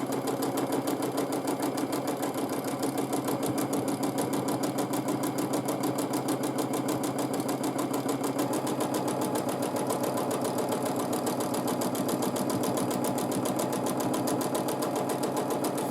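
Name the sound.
sewing machine quilting a feather design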